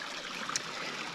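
A small creek flowing along a hiking trail, its steady broadband wash of water rippling close by without a break, with no voices.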